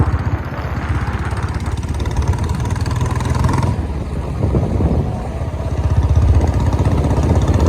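A motorcycle rides along a bypass road, its engine droning steadily and close throughout, rising and falling slightly as it accelerates, with road and wind noise around it.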